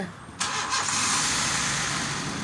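A Honda Civic with a hard-starting fault cranks, its starter grinding in a steady, loud whir that begins abruptly and continues without the engine catching.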